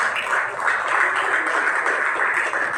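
An audience at a film thanks meet claps steadily for the speaker's guest, a dense, even, fairly loud wash of applause with no talk over it.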